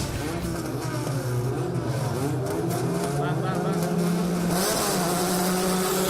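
Formula 4 race cars launching together from the grid on a wet track, a loud field of engines rising in pitch through several gear changes, with a commentator talking over the noise.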